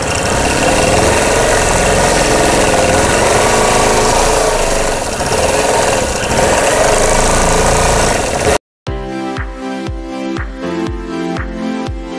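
A sewing machine quilting a spin feather design on a vintage block sampler, a loud continuous motor whir running for several seconds before cutting off, followed by music.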